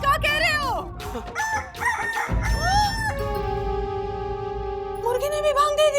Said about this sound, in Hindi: मुर्गी ने भी भांग दे दी।